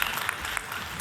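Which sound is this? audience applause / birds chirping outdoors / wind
audience applause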